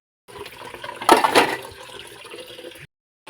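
Dishes being washed under running water, a steady splashing rush that swells briefly in the middle and then stops short, close and fairly loud with no talking.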